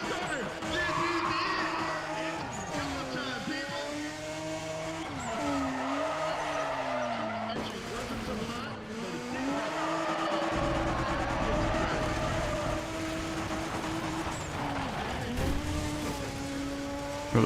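Drifting car in the racing game Need for Speed: ProStreet, with steady engine drone and sustained tire squeal that rises and falls through the slides, while a voice talks over the game sound throughout.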